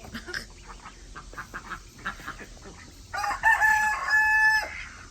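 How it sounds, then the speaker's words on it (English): Chickens cluck and a rooster crows loudly close by in a backyard coop at evening, with duck quacks mixed into the busy birdyard chatter. "Check on the chickens."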